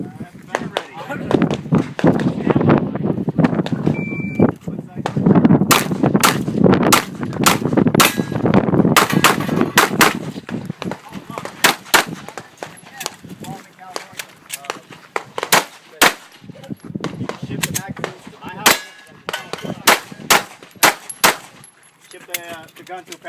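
Pistol fire at a USPSA match: a long run of sharp, loud shots, some in quick pairs and bursts, others more spaced, with talk heard early on and range noise between the shots.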